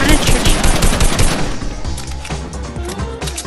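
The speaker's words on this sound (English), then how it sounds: "Rush him with the drum gun." A drum gun fires a dense, rapid stream of shots in Fortnite, loudest at first and then trailing into more scattered shots with game ambience.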